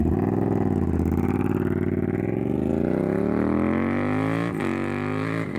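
A Yamaha MT-07's 270-degree crank parallel twin revs up, its throbbing, uneven exhaust note climbing steadily in pitch over several seconds, loud and close, with no talk over it.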